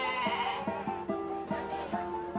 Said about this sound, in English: The breed of my sheep is Cheviot.